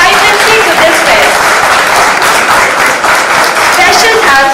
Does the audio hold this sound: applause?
yes